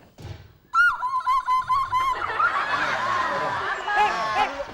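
A person imitates a bird with a string of high, rhythmic whistling chirps, then others break into laughter and chatter.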